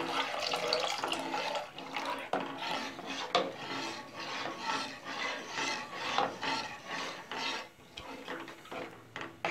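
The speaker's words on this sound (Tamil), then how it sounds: "கொஞ்சம் கொஞ்சமாக சேர்த்து நல்லா கிளறி விட்டுட்டே இருங்க, கெட்டியாகும்." A thick ragi milk halwa is stirred in a pan on low heat, giving steady, close scraping and rubbing strokes with a soft wet, sticky texture, repeating rhythmically without talk.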